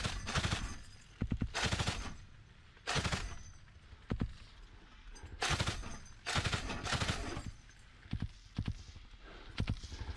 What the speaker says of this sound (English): We heard this gun firing.